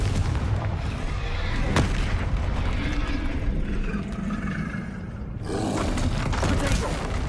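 Confringo fire-spell blasts in Hogwarts Legacy on PS5: booming, rumbling explosions roll continuously over a dense game soundscape, with a brief dip before the roar swells again.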